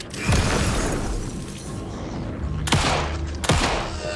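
Gunfire in the video game Alan Wake 2: a few sharp, loud shots and booming bursts, the first early on and two close together near the end, with reverberant tails.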